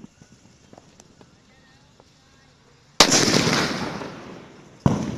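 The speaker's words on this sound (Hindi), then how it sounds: "फ्लैश को जला के देखते हैं ये कैसा चलता है।" A flash firecracker lit for Diwali starts with soft shuffling and faint taps, then bursts into a loud sustained hissing, crackling spray that fades slightly before a second sharp burst near the end.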